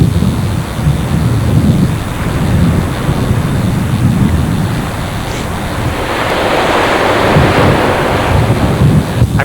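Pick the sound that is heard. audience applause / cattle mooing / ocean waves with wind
ocean waves with wind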